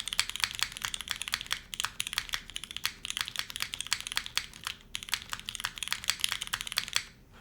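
A custom mechanical keyboard typed on in a steady stream of sharp, clacky keystrokes, close and fairly loud, with a brief pause near five seconds and no talking.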